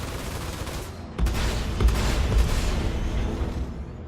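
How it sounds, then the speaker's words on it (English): Heavy, slow-firing ship lasers shoot in a Star Citizen Arena Commander space dogfight, a dense rumbling barrage of booming blasts that swells after the first second and holds loud throughout. "I really like the weapon system on this because they're very slow-firing, heavy-hitting weapons."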